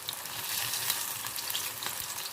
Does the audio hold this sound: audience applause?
no